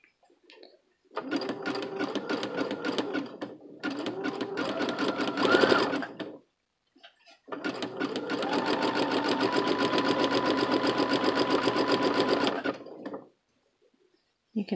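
A sewing machine running with a presser foot attached, stitching in two short bursts and then one long steady run, loud and close with pauses between.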